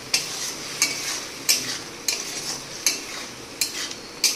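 Tomato masala for a potato and chickpea curry frying and being stirred in a pan, giving a steady close sizzle punctuated by six or seven regular scraping stir strokes, with no talk.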